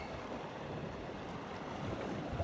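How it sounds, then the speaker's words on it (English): Wind and tidal current push against a sea kayak on open water, a steady rushing of wind noise and lapping, splashing water, close and continuous with no voices. "Wind and tide are pushing me backwards."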